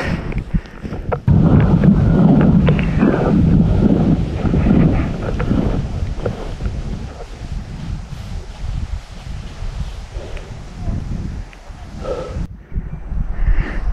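Strong mountain wind gusts hard across an exposed ridge in a blizzard, buffeting the microphone with loud roaring bursts that ease into a lower rushing rumble, then pick up again.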